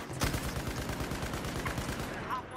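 Rapid video-game gunfire crackles steadily throughout, a dense run of overlapping shots with one sharper blast near the start, loud and continuous.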